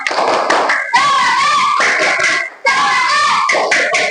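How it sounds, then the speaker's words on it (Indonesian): A school class performs a rhythmic cheer clap in unison, short patterned bursts of hand claps mixed with loud children's voices chanting together, pausing briefly between phrases. "Tepuk semangat"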